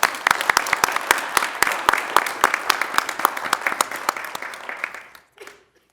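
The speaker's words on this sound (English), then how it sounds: "let's go ahead and give Jim a round of applause." A small group at a transit board of directors meeting applauds, with distinct individual claps audible in a quick irregular rhythm that thins out and stops, followed by a faint sound just after.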